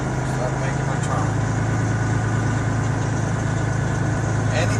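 A truck engine idles in a deep, steady rumble while the driver eases in a little throttle with the clutch engaged, the low drone holding constant and close as someone talks over it.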